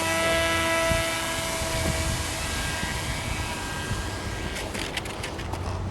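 A small underpowered RC model stealth fighter airplane flies with a steady, loud motor and propeller whine that holds evenly throughout, with no talk over it.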